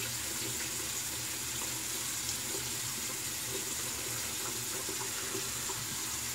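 Tap water runs in a steady, even hiss at a bathroom sink while the face is wetted before a shave, continuous and moderately close with no voices.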